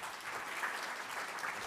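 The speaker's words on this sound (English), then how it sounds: "round of applause to welcome onto the stage the Senior Vice President and Chief of Olympic and Paralympic Sport at the USOPC, Finbar Kirwan." Audience applause welcoming a speaker onto a conference stage, steady dense clapping from a crowd, moderately loud and continuous throughout.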